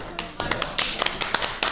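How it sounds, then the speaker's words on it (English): A small group claps for an auction's production team, with sharp hand taps scattered irregularly across the moment, fairly close and moderately loud with no talk over them. "Everyone at home, just give them a clap."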